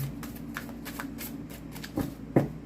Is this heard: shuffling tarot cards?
yes